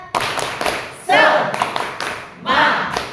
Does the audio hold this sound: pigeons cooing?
no